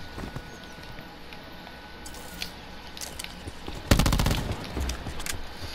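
A submachine gun in the video game Black Ops 4 Blackout fires one short, rapid burst of shots late in the clip, over a steady background of game noise.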